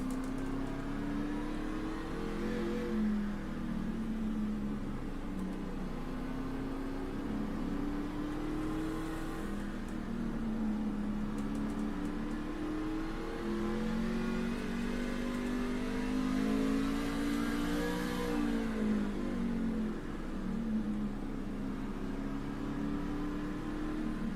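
A racing truck engine at Lime Rock Park in a racing game revs up and down in repeated swells across the lap, steady and moderately loud, with no talking.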